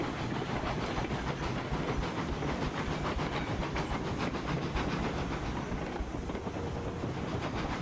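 A heavy freight train in the Railroads Online game rumbles steadily along the track with continuous clattering and hiss, loud and unbroken, with no voices.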